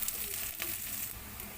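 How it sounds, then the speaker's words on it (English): Garlic sautés in a pan for a Filipino chicken curry, ginataang manok, with a brief, steady close sizzle and soft crackle, alone without talk. "we have to throw our garlic and saute for about 1 minute"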